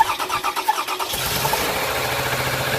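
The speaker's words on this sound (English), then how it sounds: "So now my husband will turn on the engine." A 2008 Toyota Sienna minivan engine cranks with a few rhythmic starter pulses, then catches and settles into a steady, close idle.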